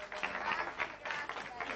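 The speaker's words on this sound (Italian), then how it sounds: "vorrei un applauso grossissimo per Lorena Sorrenti" An audience applauds for Lorena Sorrenti at the Miss Valletta 2002-03 pageant, a fairly faint, continuous patter of clapping from a crowd, heard at a distance.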